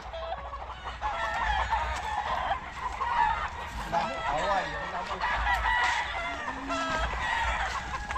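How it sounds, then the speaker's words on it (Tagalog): Several roosters crow over one another amid a busy background of clucking chickens, with faint voices mixed in. "Malakas pa naman dumarote yung mga manok na yun."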